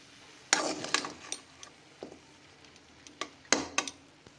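Boiled vegetable stalks and potatoes are poured into a strainer. Several sharp clanks and knocks of a pot against the strainer come in uneven bursts, close and fairly loud, separated by quieter gaps with no talk.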